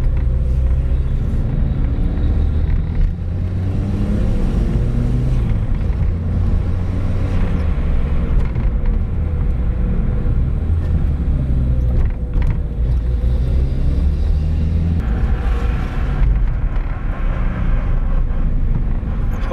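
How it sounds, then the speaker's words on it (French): Car with a worn, noisy wheel bearing while driving, a continuous loud low rumble and drone with wavering whine and occasional creaks, close throughout. "j'ai un roulement. Ça s'entend. Il fait beaucoup de bruit."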